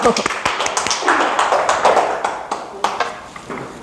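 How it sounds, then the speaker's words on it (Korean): A small group clapping at a workshop, with scattered, uneven claps and sharp taps mixed with some voices. "박수 해주세요."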